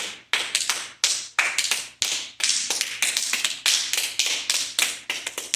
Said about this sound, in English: Now we're going to take the back of the hand and slap it 10 times.